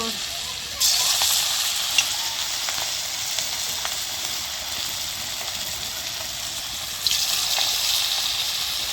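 Cabbage pakoras sizzle steadily in hot oil, a dense bright crackle that swells as more pieces are dropped in one by one, close and continuous with no talking.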